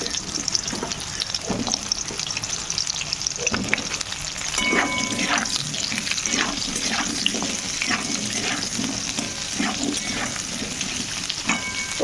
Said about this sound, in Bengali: এই তেলের মধ্যে ডুমো ডুমো করে কেটে রেখেছিলাম আলু, এই আলু আর পটলটা একসঙ্গে ভালো করে ভেজে নেব।